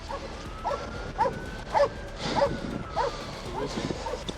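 A police K9 dog barking and yipping repeatedly at a roadside arrest, sharp barks in a short rhythmic series mixed with whimpers, with people talking nearby.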